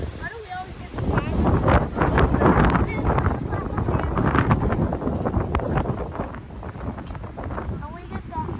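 Strong gusts of a spring wind storm in Ottawa roar and buffet the microphone continuously, rising and falling in broad rushing waves, with people talking faintly underneath.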